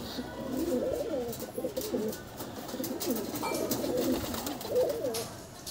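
Andhra breed pigeons coo in low, throaty, rolling calls that repeat continuously at close range, with faint rustling in the background.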